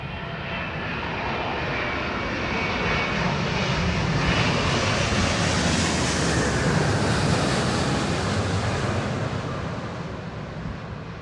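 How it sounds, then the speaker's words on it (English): Loud, steady roar of a jet airplane engine landing at London Heathrow in strong Storm Éowyn winds, with heavy wind rumble, swelling slightly in the middle and easing toward the end. "Not much flair on the landing, Simon Lai saying."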